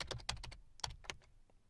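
Keys clatter on a computer keyboard as a PowerShell command is typed: a quick burst of crisp, close keystrokes, a brief pause, then a few more taps.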